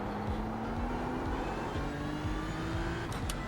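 A GT3 race car on a sim-racing lap of Sonoma in iRacing, its engine droning steadily with a rising pitch through the gears and repeated downshift blips, close and continuous throughout.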